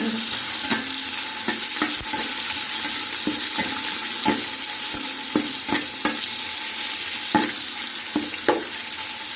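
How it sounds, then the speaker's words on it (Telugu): Mint and coriander frying in a pot for biryani, a steady close sizzle broken by regular spoon strokes and scrapes against the pan. "ఇవన్నీ పుదీనాకు కొత్తిమీర ఇవి కూడా వేసి వేగనిస్తాను కాసేపు. వేగాలి బాగా."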